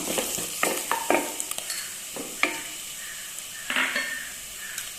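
Onion and crushed spices fry in a pan for a green peas stew, with a steady soft sizzle broken by sharp scrapes and clinks of a spoon stirring against the metal, close and without any talk.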